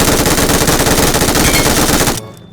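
Loud, rapid automatic gunfire from the PUBG Mobile video game rattles continuously for about two seconds, then cuts off abruptly into near-silence.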